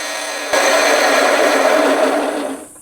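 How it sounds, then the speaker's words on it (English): A belt sander runs steadily for about two seconds as a zero fret for a cigar box guitar is pressed against it, giving a loud, even grinding whir that stops abruptly and leaves a faint hum. "Well, I'm here at the belt sander. I'm going to try to flatten this top part out a little bit"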